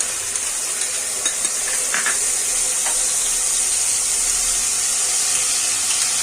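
Whole spices with bay leaf frying in a pan for vegetarian paneer curry, a constant bright sizzle and hiss with a few soft stirring scrapes, close and steady, no voices.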